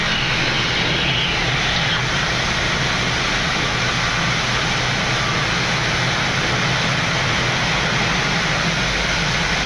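Ethiopian Airlines Boeing 787 Dreamliner engines roar as the jet climbs after takeoff, a loud, continuous broadband rush that holds steady from start to finish with no talk over it.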